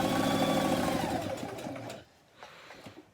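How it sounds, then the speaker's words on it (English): Sewing machine running a continuous stitch along the folded inner edge of fabric near the raw edge, a loud steady whir for two seconds that then stops, followed by a few faint handling clicks. "you're stitching close to the raw edge, the folded inner edge"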